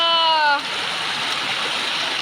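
Flowing water rushes in a steady broadband wash near a village, following a brief spoken voice at the start.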